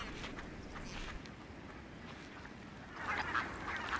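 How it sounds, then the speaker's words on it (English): Ducks, swans and coots crowd the last open water on a freezing lake, giving faint scattered honks and quacks over a steady wash of wind and water, growing a little busier toward the end. "Ducks, swans and coots huddle together in the last open water holes."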